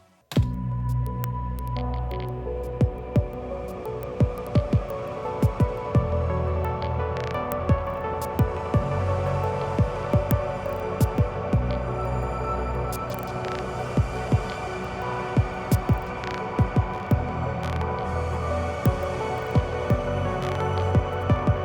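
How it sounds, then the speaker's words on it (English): A sustained synth tone rings out through a ping-pong delay, echoes bouncing back and forth, then into a Clouds reverb with a wide, washy tail, with faint clicks scattered throughout. "So now we have a ping pong delay going into the clouds reverb"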